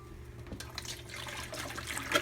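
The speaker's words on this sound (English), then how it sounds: "Let all the buttermilk run down into the bowl underneath." Buttermilk drains from freshly churned butter through cheesecloth in a strainer into a bowl below, giving a soft, steady trickle and splash that stays faint and close, with no voices.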